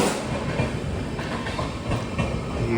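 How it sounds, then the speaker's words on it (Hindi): A passenger train, the Mahabodhi Express, rushes past on a parallel track, with a continuous loud roar, hiss and rhythmic clickety-clack of wheels over rail joints, close and steady throughout. "ये देखिए बिल्कुल पैरेलल में पूरी ट्रेन निकल रही है।"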